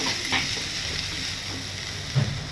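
Country chicken pepper fry sautéing in a pan with curry leaves added, a steady soft sizzle with occasional stirring scrapes, close and alone without talk.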